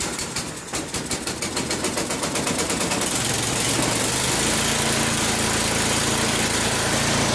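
A snowblower's gas engine cranks with rapid electric-starter pulses, then catches and runs at a steady loud idle, close by with no talk.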